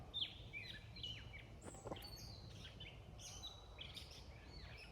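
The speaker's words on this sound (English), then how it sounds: "See the birdie?" Birds chirp at a campground in Hills Creek State Park, several short, high tweets and calls scattered over faint outdoor background noise, fairly quiet and distant.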